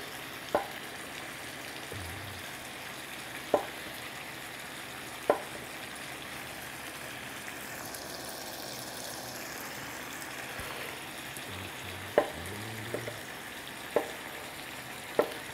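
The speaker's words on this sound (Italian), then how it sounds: "Intanto lui si cuoce con i vapori, dopo rosola." Chunks of meat for an Italian beef stew with potatoes cook gently in a pan, a soft low sizzle running throughout with a few sharp clicks and taps, no talking.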